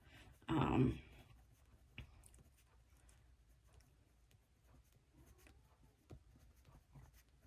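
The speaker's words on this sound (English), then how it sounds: "And then I will write which ones I got, even though they're right there." A pen writes in a Harry Potter-themed journal with a brief, loud scratching burst near the start, then a quiet stretch with faint rustles and a few soft taps.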